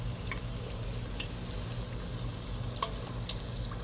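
Food fries in hot oil with a steady, close sizzle and scattered crackling pops, continuous and even throughout with no talking.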